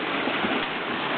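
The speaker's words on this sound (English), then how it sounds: "It doesn't take much with the water flowing." Water rushing steadily through a gold mining sluice, a continuous close hissing wash with no break and no voices.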